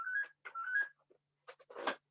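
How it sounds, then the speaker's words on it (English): A telephone rings in a council cabinet meeting room: a few short electronic warbling tones, fairly close and clear, followed by brief noisy clatters and rustles. "And there's another phone going now."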